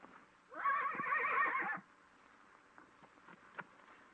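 A horse gives a single loud, quavering whinny lasting about a second, followed by quiet shuffling and faint hoof sounds.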